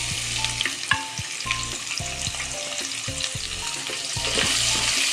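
Onions sizzle and fry in a pan for beef stew, a steady crackling hiss with occasional stirring clinks, close and fairly quiet.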